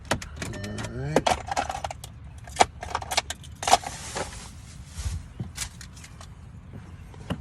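A set of car keys jangling close by while someone searches for the right one beside a 2.0T TFSI Audi, bursts of metallic clinking with a person talking in between.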